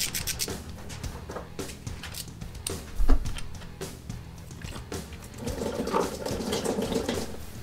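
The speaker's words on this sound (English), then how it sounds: "So rather than make a mess, I'm gonna drain the transmission." Automatic transmission fluid drains from a Ford Mustang SN95 or Fox-body transmission during clutch work, a soft, continuous liquid trickle with faint rubbing and clicking, close and quiet.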